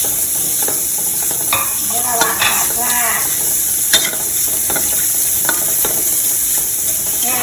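Vegetables and straw mushrooms being stir-fried in a pan for a vegetarian Thai basil dish, with a continuous sizzle and intermittent scraping and clacking of a spatula against the pan.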